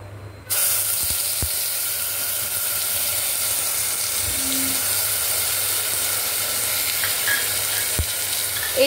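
Onion and garlic paste with a green chilli frying in a pan, giving a steady broadband sizzle that runs from the start of the clip to the end, with a few light clinks and stirring touches.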